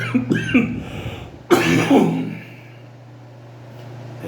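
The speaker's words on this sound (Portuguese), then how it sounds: "Hoje está atacado essa tosse." A harsh cough bursts out close to the microphone, preceded by a short throaty sound, then fades into a quiet room hum.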